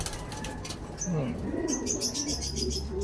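Low, soft pigeon coos rise and fall among chirps and rustling, with a steady hum underneath and no speech.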